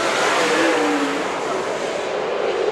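Race cars in a heat race at Antioch Speedway roar as a loud, dense wash of engine noise, with a brief rising rev as one car accelerates through the pack.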